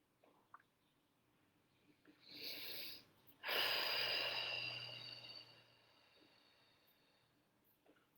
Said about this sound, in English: let's just close our eyes and just take some deep breaths